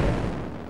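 A homemade bamboo firecracker going off, one heavy close bang that rolls into a dense, slowly fading low rumble, with no voices.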